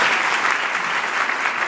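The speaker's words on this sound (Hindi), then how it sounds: "इसके लिए आपको बहुत सारी शुभकामनाएं, बधाई, और इसके लिए आप अपने लिए बजाई तालियां।" Steady audience applause at a public event, a dense unbroken patter of many hands clapping at close range, loud and even throughout with no voices over it.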